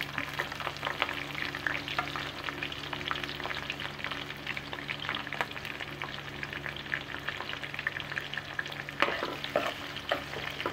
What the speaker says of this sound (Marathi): तेल चांगलंच तापलं आहे त्याच्यामुळे ते पटकन फ्राय होतात